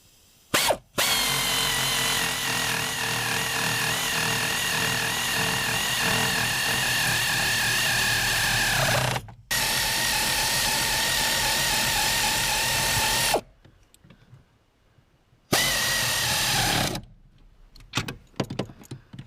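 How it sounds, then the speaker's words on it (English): An air ratchet whirs loudly and steadily in long close bursts while removing bolts from a car's power brake booster, pausing briefly between runs, then giving way to quieter clinks of tools. "Now I've got to struggle with that last bolt that I can't use the air ratchet on."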